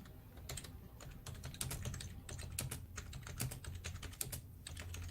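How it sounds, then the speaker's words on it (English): Rapid typing on a computer keyboard, a steady patter of close, crisp key clicks running throughout with no talking. "I'm typing."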